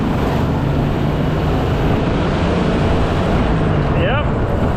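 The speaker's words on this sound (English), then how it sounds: "Let's see how this accelerates full throttle." Jeep CJ7 accelerating at full throttle, with a loud, steady engine roar and heavy wind rush that continue throughout and rise slightly in pitch near the end.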